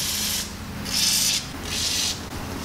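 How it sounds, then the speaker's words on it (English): Three hissing bursts of a WD-40 aerosol spray can on car suspension parts during a camber kit install, each about half a second, separated by short pauses, close and clear. "So I'm first gonna spray with WD-40."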